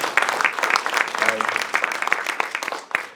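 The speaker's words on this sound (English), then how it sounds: "why don't we give a big round of applause for Gary Pullin" An audience applauds artist Gary Pullin at a film festival talk, a steady patter of clapping hands lasting a few seconds with voices mixed in beneath it.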